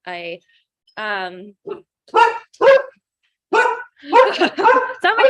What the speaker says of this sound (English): Get my dog to be quiet.